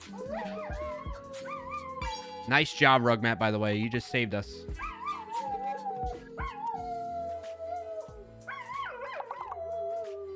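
Dogs howl and yelp in long wavering tones with sharp barks in between, while a person speaks over the noise.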